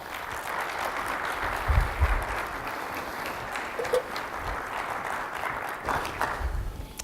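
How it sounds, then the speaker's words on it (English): Audience applause at a health policy conference, the 2017 NorCal State of Reform, a soft, even wash of clapping heard at a distance with a few low thumps. "Let's give them a round of applause."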